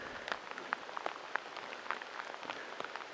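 Rain falls outside in the Carpathian mountains, a faint, even patter with scattered drips tapping on a surface.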